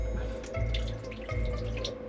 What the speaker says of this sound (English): So look, this is how much water comes out.